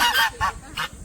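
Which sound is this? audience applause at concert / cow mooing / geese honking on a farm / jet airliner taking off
geese honking on a farm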